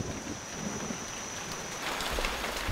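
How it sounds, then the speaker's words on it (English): A jungle rainstorm sets in, a dense steady hiss of rain on foliage that swells slightly toward the end, heard alone. "The storm that has been threatening since I arrived 5 days ago has finally come."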